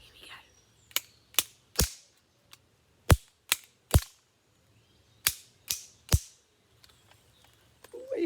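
Two rulers are clacked together to imitate a crocodile chomping, giving sharp, loud, close snaps in uneven clusters of two or three separated by quiet pauses.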